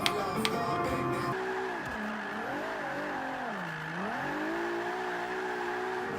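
A Nissan GT-R R35 drift car engine in Forza Motorsport 5 revs and shifts pitch, rising and falling through gear changes, steady and close, with some clattering noise at the start.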